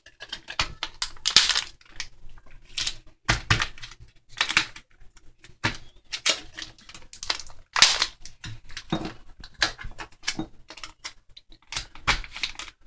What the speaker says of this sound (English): So then, apply the tape.